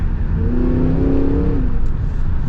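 A new Cadillac Escalade V luxury three-row SUV with a roughly 700-horsepower engine revs and accelerates, a steady close engine drone with rising tonal whine heard from inside the cabin with the window partly down.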